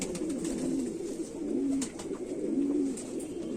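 A Kamagar pigeon cooing close by, three soft, low, rolling coos spaced evenly over a steady background hiss.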